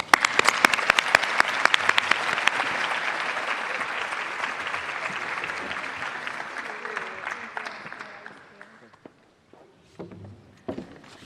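Audience applause at a school district State of the District address, loud and sustained for about eight seconds as a speaker is welcomed to the stage, then thinning to scattered claps and a few thuds.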